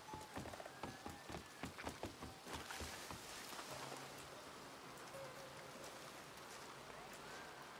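Steady rain falls in the western game RedM, a continuous hiss that fills the scene after a run of rhythmic clopping hoofbeats at the start.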